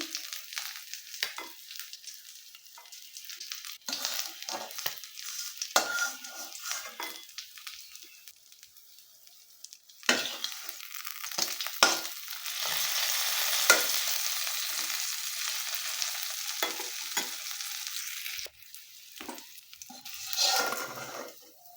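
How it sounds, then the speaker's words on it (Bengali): Intermittent sizzling and crackling of koi fish frying in oil in a village kitchen, quieter at first, then a louder sustained fry with scraping stirs and clinks. "মাছগুলো ভাজা হয়ে গেছে এগুলো এখন তুলে নিচ্ছি"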